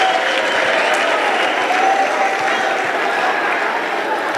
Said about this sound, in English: Come on, everybody, clap your hands for your uplines.